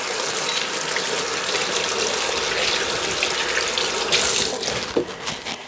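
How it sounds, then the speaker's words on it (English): Tap water runs steadily from a faucet into a kitchen sink as hands are washed after handling sticky flour-coated food, a continuous close gush with brief splashes near the end. "I need to wash my hands because they're a bit sticky."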